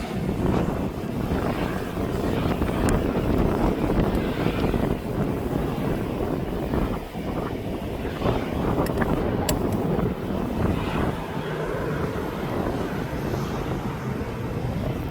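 A Beechcraft B200 turboprop climbing out after takeoff from Birmingham passes overhead, a broad roaring drone heard outdoors through heavy wind buffeting on the microphone.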